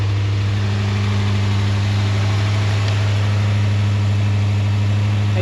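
A HammerHead 250cc go-kart engine runs loudly at a steady idle, a constant close droning hum with a rough buzzing edge and no pauses or speech.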